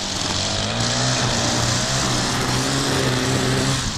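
A Scag lawn mower engine runs loud and close, a steady droning roar with a constant pitch that holds without a break and drowns out any other sound.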